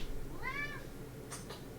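A pet cat named Jinx gives a single clear, drawn-out meow in the middle, followed by two short soft sounds against a low steady background hum; no one speaks.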